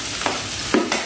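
Chicken wings sautéing in a pan for sweet and sour spicy wings, a steady close sizzle with a few brief stirring scrapes over about a second, no voices.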